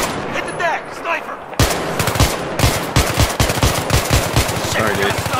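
Heavy gunfire erupts in a Battlefield co-op mission, dense rapid shots and sharp cracks firing repeatedly and loudly, with a voice briefly heard at the start.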